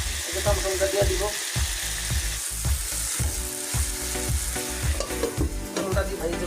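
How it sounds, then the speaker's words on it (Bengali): Hilsa fish fries with tomato in a pan, a constant sizzle overlaid with rhythmic scraping and knocking strokes of a spatula stirring, close and busy throughout. "টমেটোটা দিয়ে এই যে মাছটা ভেজে রাখছি"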